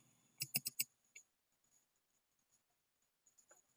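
A computer mouse clicks softly in a quiet room as a PC connects to an Android Auto head-unit emulator: a quick burst of four crisp clicks, one more shortly after, then a few faint clicks near the end.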